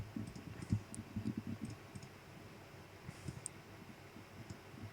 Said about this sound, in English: I'm sorry if you can hear clicking, by the way. My mouse isn't exactly very quiet.